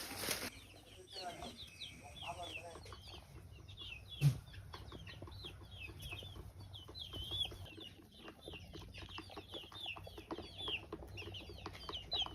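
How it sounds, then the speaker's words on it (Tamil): Young Sonali breed chickens cluck and chirp steadily across a farm pen, with occasional wing flaps and one sharp thump partway through, the flock sounding close and continuous with no talking. "நீங்கள் கோழி வளர்க்குறதா சொல்லியிருந்தீங்க, அதை பற்றி பார்க்கலாமா?"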